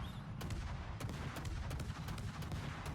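HMS Daring's guns fire in the World of Warships naval battle game, a run of about a dozen sharp, evenly spaced reports over a continuous low rumble of engine and sea noise.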